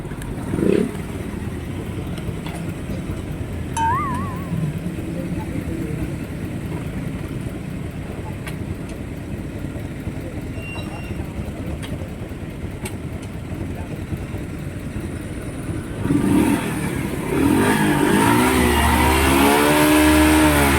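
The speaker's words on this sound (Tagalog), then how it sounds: "Traffic talaga guys." Road traffic with motorcycles and cars rumbles steadily around a motorcycle rider, with engines passing close by. A louder vehicle surges nearer toward the end, and a voice speaks faintly underneath.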